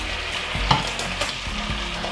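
Eggplant stir-frying in a bubbling bean-paste sauce over high heat, a close continuous sizzle broken by quick clacks and scrapes of tossing.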